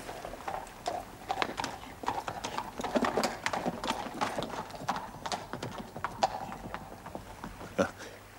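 Horse hooves clip-clopping at a steady walking rhythm, moderately close, with a brief whinny-like note among the hoofbeats.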